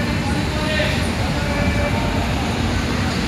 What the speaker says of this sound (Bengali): এই মুহূর্তে ট্রেন ছেড়ে দিল